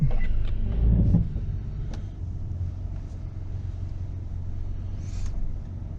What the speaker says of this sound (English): All right, backing up.